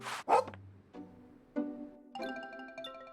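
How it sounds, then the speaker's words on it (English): A dog in the farming video game Story of Seasons Grand Bazaar gives a couple of short, close barks, followed by brief chiming game tones and a sustained musical jingle. "let's train my dog."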